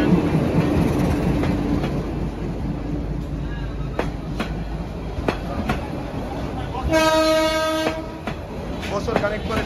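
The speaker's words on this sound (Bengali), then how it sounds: "ট্রেন ট্রেন আইতাছে" A train rumbles past with clattering wheels, and its horn sounds loudly for about a second near the end, with harmonic blasts standing out over the steady rail noise.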